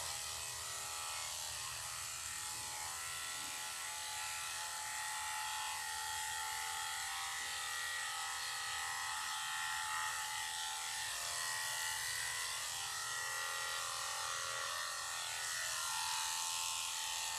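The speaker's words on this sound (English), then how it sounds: "I'm actually going to shave her face with this number 10 blade first." Electric clippers fitted with a number 10 blade shave a Yorkie-Poo dog's face, giving a steady, continuous buzzing hum at close range throughout, with no talking.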